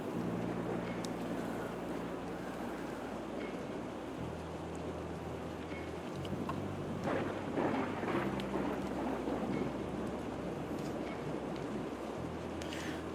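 Steady rain with low rumbling thunder in a dark cemetery scene from the video game Rue Valley, a continuous wash of rainfall with deep swells, with no talking.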